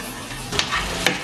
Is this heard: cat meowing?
no